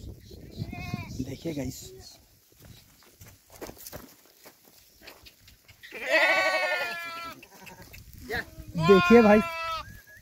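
A large flock of long-tailed sheep, herded by Rabari herders in Chhattisgarh, moves out to graze with a few loud, close bleats near the end. Someone talks over soft footsteps and shuffling throughout.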